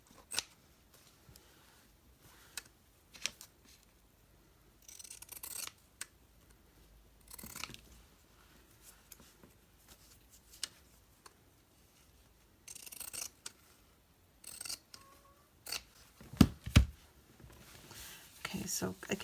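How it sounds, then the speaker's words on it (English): Scissors snip through fabric at a craft table in a string of quick, sharp cuts spaced by pauses, close and fairly faint, with quiet rustling and soft speech around them. "let me just cut this real quick"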